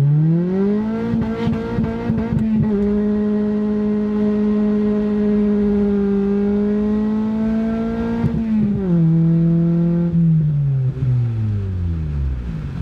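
Toyota Paseo engine revving high toward 7,200 RPM, a loud sustained buzzing tone that climbs, holds near the top, then drops away, recorded close with no talking.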